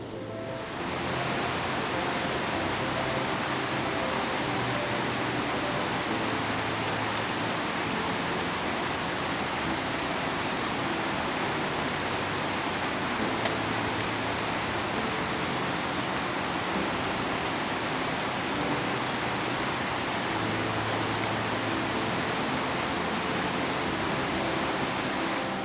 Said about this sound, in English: where the water changes direction and where it's flowing over a rock